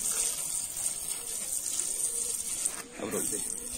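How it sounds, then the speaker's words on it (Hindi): Water poured onto a newly planted neem bonsai, a steady, soft splashing trickle that runs continuously and grows briefly fuller near the end. "पूरी तरीके से अच्छे से पानी डालिएगा।"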